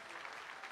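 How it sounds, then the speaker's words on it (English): An audience at a country music preshow applauds, a steady wash of clapping filling the short moment without pause. "give him a round of applause"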